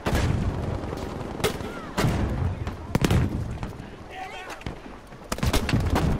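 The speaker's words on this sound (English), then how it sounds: "Oh, we're getting shot from behind." Battlefield V gameplay fills with gunfire, sharp repeated shots and explosive bursts in a dense wartime soundscape, loud and continuous throughout.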